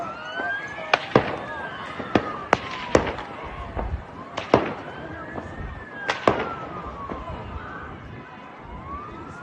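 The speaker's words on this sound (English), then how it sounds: "many individuals from across the bay could hear gunfire across Sydney." Sharp gunshot cracks of automatic or semi-automatic gunfire ring out in irregular bursts across Sydney, Australia, some in quick pairs, while sirens wail in the background.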